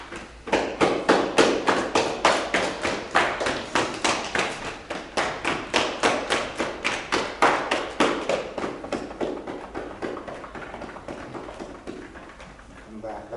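Rapid rhythmic slapping of hands tapping on the glutes during a qigong self-massage, a steady stream of close, even percussive pats that soften slightly toward the end.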